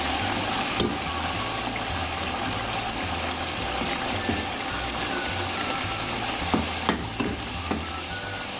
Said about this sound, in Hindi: फ्लेम में थोड़ी सी तेज़ कर लूँगी। अब अच्छी तरह भून लूँगी ताकि टमाटर अच्छी तरह गल जाए।